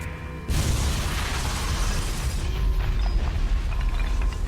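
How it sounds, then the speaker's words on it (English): Video game explosion bursts in after a brief quiet moment, then a long loud rumbling roar with rattling debris-like mechanical noise that keeps going to the end. "I heard an explosion."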